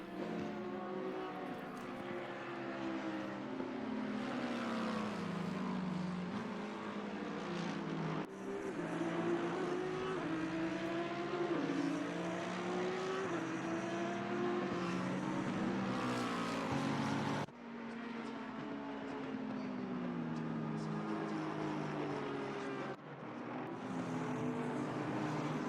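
Race cars in the ACC sim racing game roar continuously with layered engine tones rising and falling through gear changes, several cars close together, with brief cuts in the sound and no talk over it.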